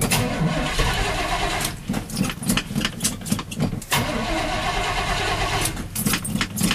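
An old carbureted Chevy plow truck engine cranks with rapid starter churning, then catches and settles into a loud, rough idle close by.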